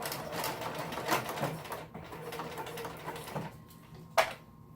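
A sewing machine stitches fabric in short bursts of rapid mechanical stitching, with brief pauses and a sharp click near the end.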